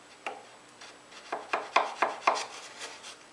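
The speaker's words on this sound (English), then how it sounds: "I can just take the chisel and clean up what's left right there" A chisel pares leftover wood off a part for an Adirondack chair in a quick run of about seven short, scraping strokes. The strokes grow slightly louder and closer together toward the end, in an otherwise quiet room.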